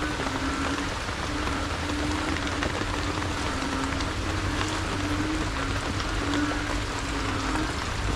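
Steady rain patters and hisses on surfaces close by, an even, continuous wash of drops with a faint low drone beneath and no one speaking.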